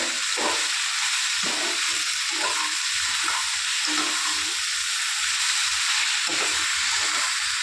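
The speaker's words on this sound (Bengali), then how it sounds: "হলুদ দিলাম, এবার এটা আর একটু কষবো।" Snails cooking with ridge gourd, potato, eggplant and turmeric in a pan, a loud, constant hissing sizzle with faint, recurring stirring scrapes underneath.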